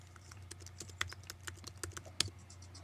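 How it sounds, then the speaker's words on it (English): Fingers type on a computer keyboard at a podcast session, a quiet irregular patter of key clicks with a few sharper, louder strikes, no voices. "hearing someone typing, especially on like a podcast"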